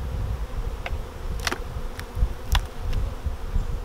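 Honey bees buzz around full hive supers during a honey harvest, a dense, continuous drone from many bees nearby, with a few faint clicks and knocks of equipment.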